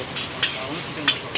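Street-food frying at a roadside fast-food stall, with chicken masala being stirred into the pan: a steady sizzle broken by three sharp scraping stirs of the utensil, close and fairly loud.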